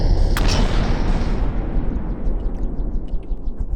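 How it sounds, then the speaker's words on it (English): A cannon fires in the naval combat game From the Depths: one sharp, heavy boom near the start followed by a long, deep rumbling decay with scattered distant crackles. "The cannon's getting on with it already."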